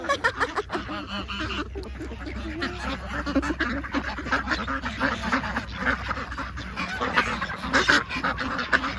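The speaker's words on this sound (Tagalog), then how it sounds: "Kwak, kwak, kwak, kwak." Ducks quack repeatedly in a busy, overlapping chorus in a park in Mexico, close and fairly loud, with some honking mixed in over a low background rumble.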